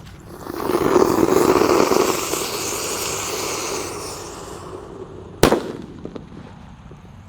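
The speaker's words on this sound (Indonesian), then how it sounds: "di sini ada mercon radiator yang warna merah. Kita nyalakan." A red radiator firecracker, lit set in the ground, hisses and roars loudly for several seconds, fading, then a single sharp bang cracks out followed by faint echoes.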